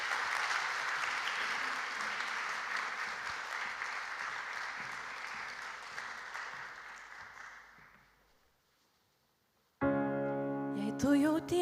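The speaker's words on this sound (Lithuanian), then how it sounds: "Padrasinkime jas aplodismentais." Sustained audience applause at an award ceremony for innovative teachers, loud and steady for about eight seconds before fading to near silence, followed by the start of a musical performance.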